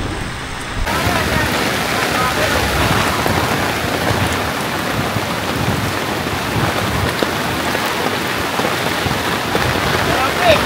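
Heavy rain pounds steadily on a nearby tent surface at a campsite, a dense, continuous roar with gusting wind, loud and close throughout.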